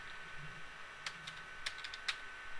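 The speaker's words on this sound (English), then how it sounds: "I'm going to type in login" Keys on a computer keyboard are tapped in a few sharp, irregular clicks while a network switch is being set up, close and fairly quiet over a soft background hiss.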